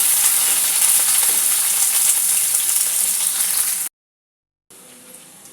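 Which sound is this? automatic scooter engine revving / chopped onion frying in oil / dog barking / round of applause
chopped onion frying in oil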